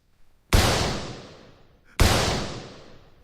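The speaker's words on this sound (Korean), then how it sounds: "탕탕탕 국내에서 총소리가 들립니다" Two loud gunshots ring out about a second and a half apart as a sound effect, each a sharp crack trailing into a long reverberant decay, with nothing else heard.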